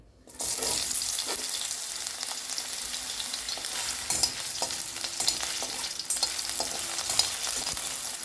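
Potato and green chillies frying in a pan for a fasting varai pulao make a close, continuous sizzle with scraping stirring strokes throughout.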